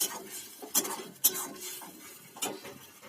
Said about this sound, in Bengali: থোর বাটাটা দিয়ে একটু নাড়াচাড়া করবো